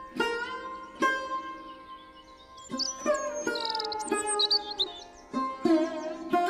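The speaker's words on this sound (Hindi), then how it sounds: "तभी वहां पर मैना पक्षी आ गई।" A myna bird chirps in a string of bright, high calls that rise and fall over a steady tonal background, with sharp onsets recurring every second or so.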